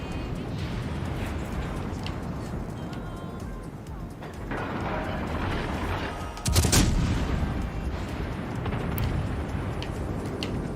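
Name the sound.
naval gunfire from warships in World of Warships Legends video game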